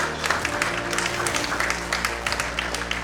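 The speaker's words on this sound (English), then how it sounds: "Please welcome him with loud round of applause." A meeting audience at a Lions club district gathering claps to welcome a speaker, a moderately loud patter of hands with some uneven bursts, briefly heard with a faint voice underneath.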